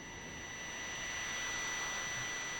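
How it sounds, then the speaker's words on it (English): A flying turtle in the 1990s video game Magic Knight Rayearth gives off a steady jet-airplane roar, a continuous whooshing engine drone with a high whine that swells slightly and holds throughout. "for whatever reason, the turtle sounds like an airplane"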